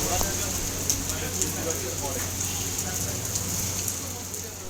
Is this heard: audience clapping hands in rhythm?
no